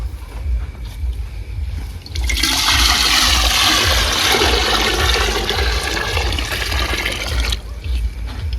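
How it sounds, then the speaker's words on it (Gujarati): Water gushing into a pot for boiling sweet potatoes in a village kitchen: a loud, steady rushing pour that begins abruptly and stops after about five seconds, over low background hum. "અંદર પાણી વેડી દઈશું, જેથી કરીને આપણા શક્કરિયા બફવાની શરૂઆત થઈ જાય"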